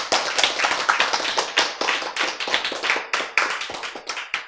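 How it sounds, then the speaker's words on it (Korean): An audience claps at a lecture, with a lively, uneven patter of many hands that stays fairly loud and steady for several seconds with no talking over it. "박수"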